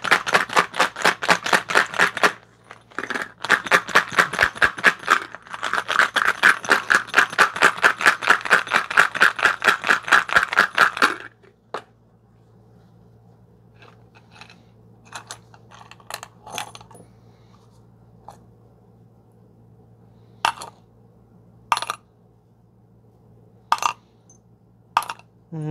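Engine bolts from a 2005 Toyota Corolla rattle as they are shaken in quick, loud metallic bursts, then fall to scattered clinks and taps against a low hum.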